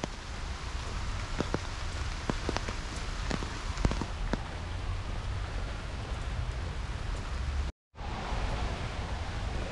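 Steady rain pattering down in Kandy, Sri Lanka, a dense hiss with scattered louder drops, continuous and close, with a brief cut near the end.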